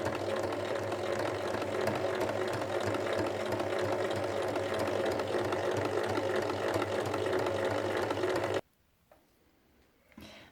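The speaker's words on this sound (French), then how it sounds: "on va venir fermer le bas en faisant une piqûre à 1 mm" A sewing machine runs steadily for about eight and a half seconds, stitching a 1 mm seam along the bottom edge of a fabric bib, then stops abruptly, leaving near silence with a faint handling sound at the end.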